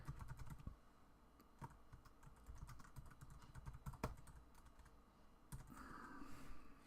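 Quick keystrokes on a computer keyboard as a folder name is typed, a steady run of close, light clicks with a brief pause partway through.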